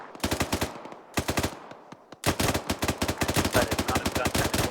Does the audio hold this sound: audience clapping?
no